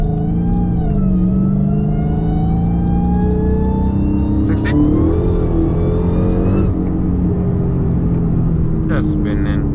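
Dodge SRT Hellcat V8 revving hard at night with its wheels spinning, a loud sustained engine roar that climbs and holds, with voices talking over it.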